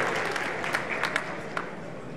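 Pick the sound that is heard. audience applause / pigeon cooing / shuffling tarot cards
audience applause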